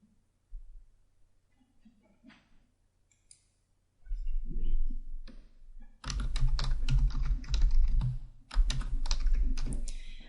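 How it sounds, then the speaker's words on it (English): Quick, close keyboard clatter from typing text into a book cover design program, two dense bursts of clicks after a few quiet taps. "Now you can type in your back matter text."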